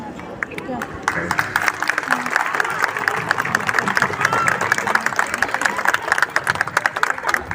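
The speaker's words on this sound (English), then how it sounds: "Come on, you can all clap." Residents clap at an Independence Day celebration in a residential society, sharp close handclaps in an uneven rhythm that grows busier, with crowd chatter and voices mixed underneath.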